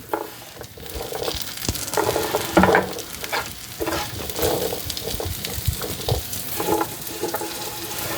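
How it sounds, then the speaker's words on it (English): Sweet potatoes fry in melted butter in a skillet, a continuous crackling sizzle with scraping stirs and light clatter of the pieces being moved around, fairly close and without talk. "So let's get all of our sweet potatoes in our skillet."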